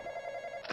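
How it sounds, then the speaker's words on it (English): Telephone ringing in a video game, a steady sustained electronic ring, faint and brief, ending with a soft thud. "Wait, who's calling me? Is there, like, a phone?"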